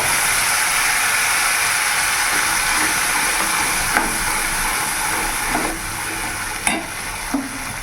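Ground spice paste crackles loudly as it hits oil already tempered with bay leaves and whole garam masala. A dense, steady sizzle carries a few sharp metallic clinks from stirring near the end.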